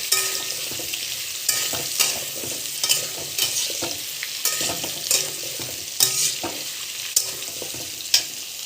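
Potato, cauliflower, carrot and pumpkin pieces frying for khichuri, with a steady close sizzle broken by regular scraping stirs about once a second.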